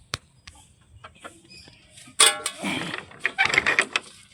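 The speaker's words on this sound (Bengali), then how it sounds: "অনেকগুলো মুরগি রয়েছে" Many hens in a loft-style coop cluck and fuss nearby, with scattered clicks and rustles at first, then a burst of louder, overlapping clucking and flapping in the second half, and no talking.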